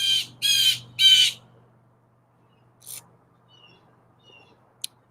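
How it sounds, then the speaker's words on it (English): Several crows caw loudly and close by in the morning, three harsh bursts in quick succession, followed by a quiet stretch with a few faint, distant calls and a sharp click near the end. "The birds are noisy this morning."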